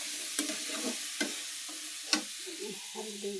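A spoon stirs pumpkin and fish with turmeric in a hot pan, giving a steady soft sizzle with a few sharp utensil clinks and scrapes spaced through the stir.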